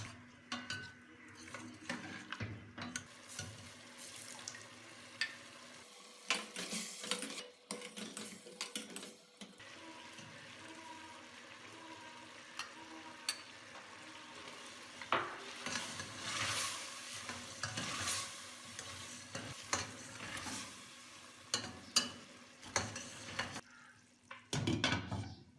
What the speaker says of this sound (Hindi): तेज़ आंच पर 10 मिनट पकाएं।